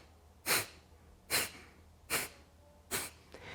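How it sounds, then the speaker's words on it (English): Four short, sharp nasal exhales come in an even rhythm about a second apart during energizing breathwork, close and fairly soft, with a fainter fifth puff at the end. "this sounds like a short, sharp exhale through your nose"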